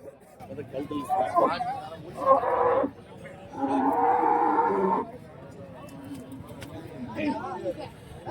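Cattle moo loudly a few times at a busy livestock market in Karimangalam, Dharmapuri district, with background chatter and livestock noise throughout.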